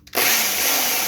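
A 30-year-old Black and Decker electric drill starts abruptly and runs at a steady, loud whine for about a second, close to the microphone with no talking.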